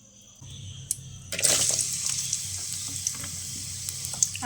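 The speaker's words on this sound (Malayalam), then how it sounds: "ആദ്യം ഉള്ളി വഴറ്റിയെടുക്കട്ടെ" Onions sizzle in a hot pan for a Kerala-style prawn biryani, a bright steady frying hiss that starts abruptly after a quiet moment, with occasional clinks and stirring sounds nearby.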